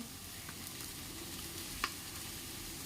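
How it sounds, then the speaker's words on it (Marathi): A wet turmeric vegetable mixture is stirred in a pan for a traditional Maharashtrian haldi dish, giving a faint, steady sizzle with one small click of the spoon partway through. "व्यवस्थित असं मिक्स करून घ्यायचं"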